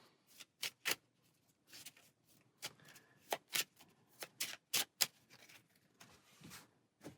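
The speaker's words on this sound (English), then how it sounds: "We're going to take the Necron cards, give them a shuffle." Game cards for a Necron board game are shuffled by hand in several quick riffling bursts, each a crisp close papery flutter, separated by short pauses and softer handling noises.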